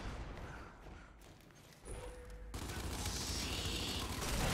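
Sniper rifle fire in the shooter video game Gears 5, with sharp crack-like blasts and mechanical handling noises amid a loud, dense wash of in-game action and ambience.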